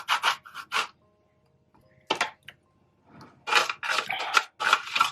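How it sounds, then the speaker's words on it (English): Close, dry rasping bursts of a clementine peel being rubbed over a zester, coming in short strokes with a pause in the middle before a quicker run of scrapes. "I'll zest it."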